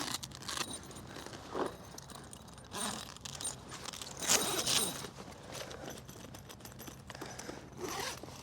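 Faint zipper pulls and scraping on a canvas bell tent door, one zipper for the bug mesh and one for the main door, in short bursts with rustling between them.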